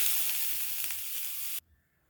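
Pirandai (adamant creeper) with salt sautés in a pan, giving a bright, hissing sizzle that runs steadily up close and then cuts off abruptly, leaving near silence.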